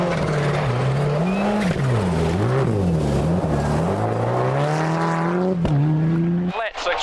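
Rally car on a short tarmac sprint stage, its engine loud and close, rising and falling through gear changes and revs for several seconds, with a commentator talking over it and a brief drop near the end.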